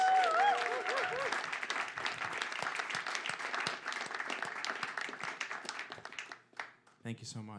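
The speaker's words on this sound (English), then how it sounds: "Can we get a round of applause for Nicholas Powers" An audience applauds Nicholas Powers at a Brooklyn Psychedelic Society talk: sustained crowd clapping with a voice briefly over the start, thinning and fading near the end before a speaker resumes.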